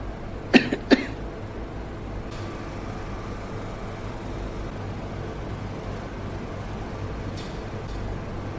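Two quick coughs sound early on, moderately close, followed by a long stretch of quiet background hum with faint distant noises.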